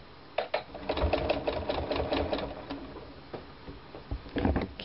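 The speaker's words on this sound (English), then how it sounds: "I'll begin stitching at the end and just stitch along in between my 2 stitching lines" An embroidery machine stitches an in-the-hoop quilt block, a fast, continuous mechanical chatter of needle strokes with sharp ticks and knocks, close and fairly loud.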